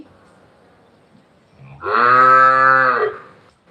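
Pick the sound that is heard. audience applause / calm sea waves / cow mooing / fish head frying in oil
cow mooing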